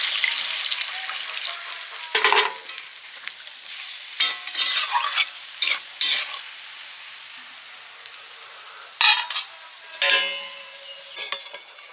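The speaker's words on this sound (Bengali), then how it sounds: "পাট শাকটা কড়াইতে বসেছিল" Jute leaves frying and being stirred in a wok, a steady close sizzle with several sharp scraping stirs at irregular intervals and no talk.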